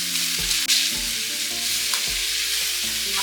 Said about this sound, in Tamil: வெங்காயம் தக்காளி ரெண்டையும் ஒன்றாவே போட்டு வதக்கிக்கலாங்க.